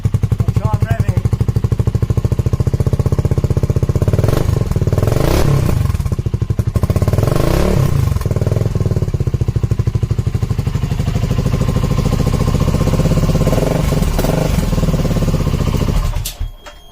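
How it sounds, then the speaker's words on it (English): Twin-cylinder BSA Gold Star 650 motorcycle, a 2023 model with a modified free-flowing exhaust, idling loudly up close with a steady thumping beat and several rising revs before it cuts off near the end. "I'll try and rev it."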